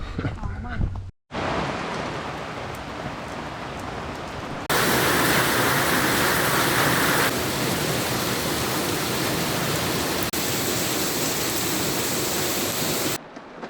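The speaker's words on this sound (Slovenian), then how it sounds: "Zdaj pa čakava, da neha pade dež." Steady, dense rain hissing across a surface, loud and continuous, briefly cutting out near the start and growing heavier midway through.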